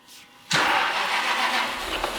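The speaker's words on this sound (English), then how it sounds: "Okay, now we can start with the engine and check if everything is alright." A car engine cranks and catches after an intake repair, settling into a steady, close idle that holds evenly to the end, with no voices.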